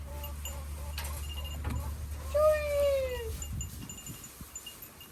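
A cat gives one drawn-out meow, clear but moderately close, over a low steady engine-like hum and faint background noise.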